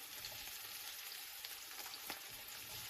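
Purple onions and shallots fry in a pan for a sardine omelette, giving a steady, close, even sizzle with faint crackles throughout and no talking.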